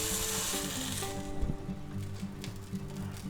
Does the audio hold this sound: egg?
yes